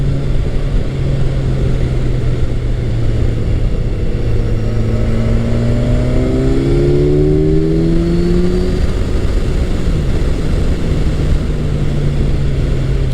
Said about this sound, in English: it's got so much power in the mid-range. There is no need to rev it all the way to the red line just to enjoy some nice acceleration